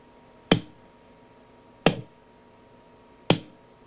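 Three sharp, isolated foley smack sound effects, noise-gated so each crisp hit falls off into near silence, evenly spaced and close.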